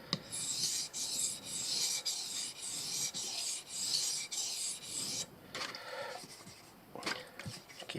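A knife edge, a MoraKniv Mora blade, rasps back and forth on a wet Japanese whetstone to strip the burr, giving a quick run of soft, close scraping strokes that loosens into a few sparser rubs.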